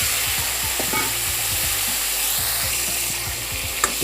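Pointed gourd (potol) fries in a couple of spoons of hot oil in a kadhai, a dense, steady sizzle and crackle running throughout, with soft stirring clicks and no talking.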